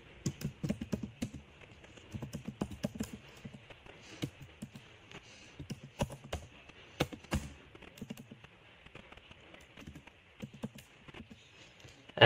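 Quick, irregular keystrokes on a computer keyboard as a template name is entered, soft close clicks in short bursts with brief pauses, alone without speech.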